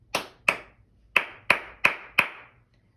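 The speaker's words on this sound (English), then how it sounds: "clap the simple rhythms" Hands clap a simple rhythm in a music class, six sharp, close claps in an uneven pattern: two, a pause, then four evenly spaced.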